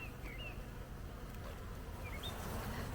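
Agitated honey bees buzz in an opened hive, giving a dense, continuous drone with individual bees whining past close by, fairly quiet overall and with no speech.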